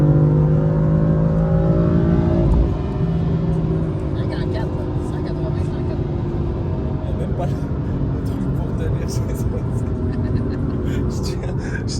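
A 2015 BMW M4 with tuned software, around 630 hp, pulls hard under full throttle, its engine roaring with rising tones before settling into a loud steady drone from inside the cabin.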